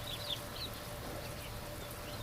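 Newly hatched ducklings near a hatcher make faint, scattered high peeping calls in a few short bursts over a low steady background hum.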